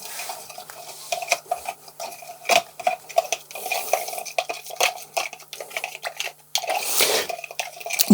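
A spoon stirs citric acid into water for pine soap, giving quick irregular clinks and scrapes against the container, interrupted by brief pauses, close up and without talking.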